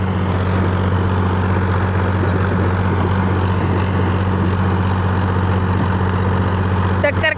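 An Eicher 242 tractor's diesel engine runs steadily and loudly at a constant throb, close and unbroken, with a short rattle at the very end.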